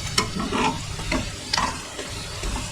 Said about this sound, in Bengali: ফ্রাই করে নেব সুন্দর ফুলে উঠছে